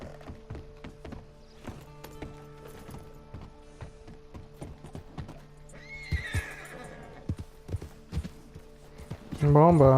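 A horse in the Red Dead Online video game clip-clops with steady, close hoofbeats, then lets out a loud neigh at the end, while someone talks over the game sounds.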